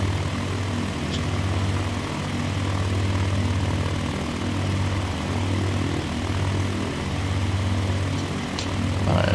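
Propeller airplane engine in Microsoft Flight Simulator 2020 drones steadily on a landing approach along the shore, a loud continuous hum with slight pulsing swells, no talking.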